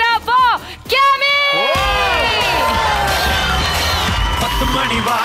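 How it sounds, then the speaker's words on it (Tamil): A studio audience on a televised Tamil music game show bursts into loud, sustained cheering and whooping with shouts, after brief bright musical stings at the start; the crowd noise carries on steadily to the end. "ஒரு பலத்த கைத்தட்டலோட let's give it up for கேமி"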